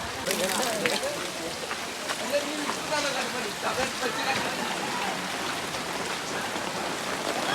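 Steady heavy rain patters across an open weekly market, with scattered voices and background bustle underneath throughout.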